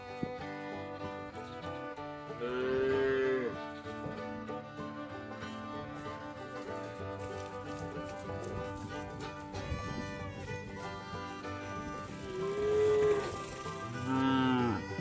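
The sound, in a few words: cows mooing in a green grass field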